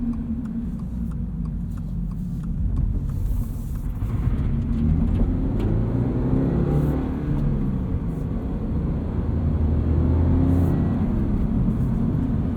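A 2022 Subaru BRZ with a 6-speed manual drones and builds steadily as it accelerates, a low, aggressive rumbling growl heard from inside the car, rising in pitch over time.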